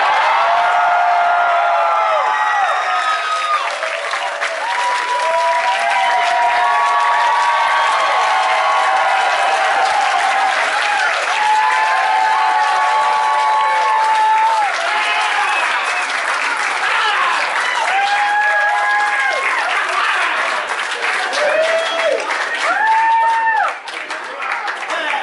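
A large concert crowd applauds and cheers steadily, with scattered whoops and shouts rising above dense clapping, loud and sustained throughout.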